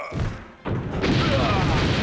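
Grenade explosions in The Crow: City of Angels video game, a dull boom followed by a second heavier blast that rumbles on, loud and close.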